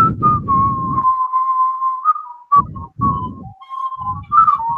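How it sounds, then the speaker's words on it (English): A person whistles a sustained melodic tune, held notes with short pauses, loud and close, alternating with bursts of low rustling or handling noise. "Oh, we'll whistle."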